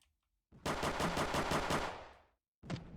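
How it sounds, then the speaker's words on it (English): AK rifle fired in a Roblox video game: a rapid automatic burst of about ten sharp shots over roughly a second and a half, loud and close, followed by one more short shot. "Ooh, an AK."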